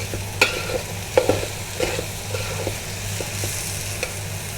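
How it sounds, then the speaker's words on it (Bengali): Rice and vegetables for khichuri are stirred in a hot pan, with a spoon scraping and clinking in irregular knocks over a soft, continuous sizzle, close and alone. "এখন চালের সাথে সবজিগুলো ভালো করে মিক্স করব।"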